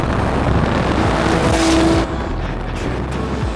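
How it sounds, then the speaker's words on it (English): Lamborghini supercar drives through thick fog on a supercar rally, its loud engine roaring close with a rising tonal whine before the note drops off, exhaust popping in the steady rumble, no talk. "Those Lamborghini pops, we are driving through some crazy fog"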